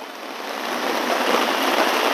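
Close, steady hiss of rain driven by wind, rising slightly and continuing unbroken, with no voices.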